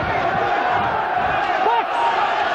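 A dense amateur boxing crowd at a 1992 ABA light heavyweight final roars and jeers in disapproval, a loud, sustained wall of voices and shouting with a rising swell near the end.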